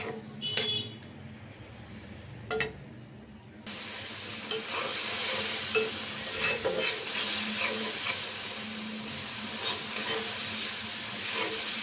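A couple of brief clinks ring out in near-quiet, then tomato frying with spices in a pan starts a steady hissing sizzle. Soft stirring scrapes run through it to the end.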